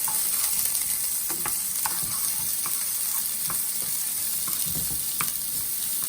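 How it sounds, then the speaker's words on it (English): Red onion fries in hot oil in a pan, a steady close sizzle with scattered scraping clicks as it is stirred throughout, no talking. "so add the red onion, and stir."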